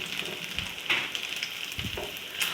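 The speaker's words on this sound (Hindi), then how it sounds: "तो बस अभी ये भी बस शैलो फ्राई मैंने किया है" Potato and chicken cutlets shallow frying in a little oil in a pan give a steady soft sizzle and crackle throughout, with a few faint pops and stirring clicks, and no talk.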